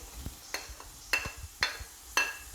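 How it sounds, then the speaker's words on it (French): Bacon lardons frying in leftover butter in a pan for beef bourguignon give a quiet sizzle, broken by several sharp scraping stirs from a utensil at roughly half-second intervals, close up and without speech. "on va faire cuire les lardons dans le même plat"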